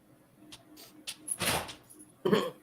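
A house's front door closes somewhere away from the listener, a few muffled knocks and a dull thud followed by another soft bump, faint in a quiet room.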